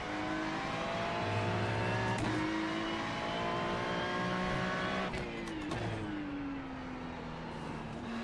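Ferrari GT3 race car in iRacing, its engine droning steadily and loudly throughout, with the pitch climbing and falling through gear changes and a brief scrubbing tire sound toward the end.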